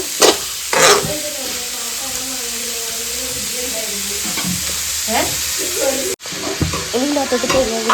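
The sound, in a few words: grated coconut roasting in hot oil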